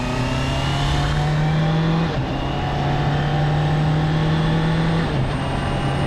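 Honda CB650R motorcycle (2023) accelerating hard on a road, its steady engine drone climbing in pitch and dropping twice at clean upshifts through a slipper clutch, loud and continuous with no talk.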